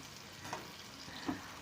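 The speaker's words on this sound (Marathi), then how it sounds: "कढईत तेल घालून त्यामध्ये कांदा छान परतून घ्यायचा आणि हिरवी मिरची" Chopped onion and green chili frying in oil in a wok, a steady soft sizzle with a couple of light stirring scrapes and no talk.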